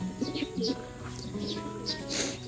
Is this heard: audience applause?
no